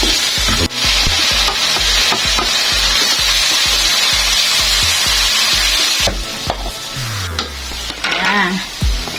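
Leftover rice fries for special fried rice in a hot pan, hissing in a loud, constant sizzle while a spatula scrapes and stirs in a brisk, regular rhythm close by.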